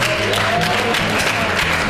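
A crowd at a crime prevention workshop claps in a dense, continuous burst of applause, with cheering voices mixed in, loud and close.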